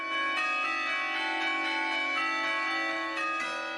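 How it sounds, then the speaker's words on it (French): Carillon bells of Lyon's city hall ring out a repeating melody, a steady sequence of bright, resonant struck tones with long overlapping decay, heard alone and fairly close. "les ritournelles du carillon de l'hôtel de ville font résonner de nouveaux morceaux"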